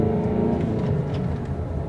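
A Jeep Patriot diesel engine labours uphill, a steady droning rumble heard from inside the cabin, close and continuous without a break.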